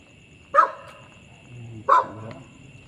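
A dog barks twice, about a second and a half apart, in short sharp woofs at moderate distance against quiet outdoor background.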